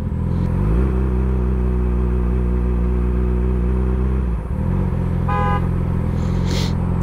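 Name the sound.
car horn honking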